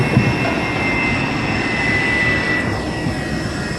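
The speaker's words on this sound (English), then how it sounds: "the plane, which has just landed here at Davao City" Jet airliner engines droning loudly on the tarmac at Davao City airport just after landing, a steady roar with a high whine held throughout, no talking.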